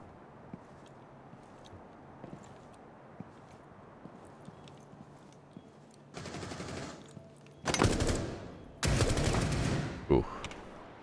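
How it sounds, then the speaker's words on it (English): Bursts of automatic gunfire in Rainbow Six Siege, first faint scattered shots, then two loud sustained volleys of rapid fire near the end, with a commentator talking. "He starts shooting and he immediately will like whiff half his shots."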